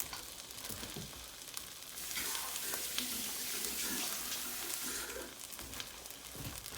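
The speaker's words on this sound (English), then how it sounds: "Rinse all the goodness out of the can." Water from a kitchen tap runs into an empty tomato paste can to rinse it out, a steady hissing splash that swells and changes as the can fills, heard close and fairly quietly.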